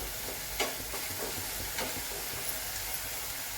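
Papdi bean pods are sautéed and stirred in a pan, giving a soft continuous sizzle with a few light scraping stirs near the start, moderately quiet and without voices.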